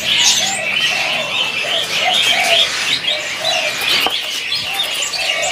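Green leafbird (cucak hijau) singing at a bird market, a loud, busy stream of rapid chirps and warbling phrases that runs continuously amid other caged birds, with dove-like coos in the mix.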